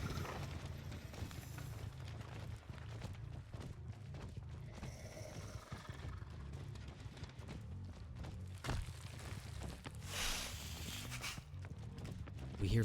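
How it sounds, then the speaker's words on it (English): Footsteps from a video game tournament match, light repeated steps pattering steadily under a constant low game rumble with no talk, the rhythm close and even. "We hear footsteps in main."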